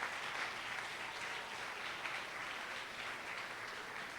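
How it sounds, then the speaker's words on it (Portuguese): Church congregation applauding steadily throughout, a dense wash of many hands clapping at moderate level with no talk on top. "Vamos aplaudir a vida deles, irmãos."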